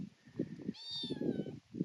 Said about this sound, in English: There we go, another cat.